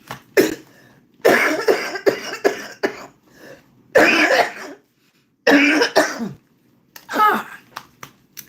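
Several harsh coughing fits, close and loud, coming in bursts separated by short silences, with a few throat-clearing hacks.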